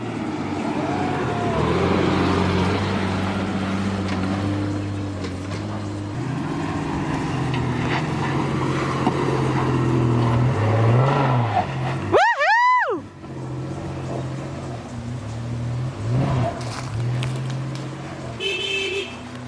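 A 4x4 vehicle drives along a trail in Australia with a continuous engine drone and rolling road noise. A brief rising-and-falling tonal sweep cuts through about two-thirds of the way in.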